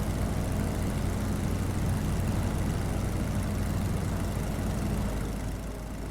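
A PT-17 Stearman biplane engine in a flight simulator game drones steadily and loudly for the whole stretch, a dense, unbroken rumble with no talking over it.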